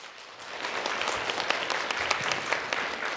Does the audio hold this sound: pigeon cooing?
no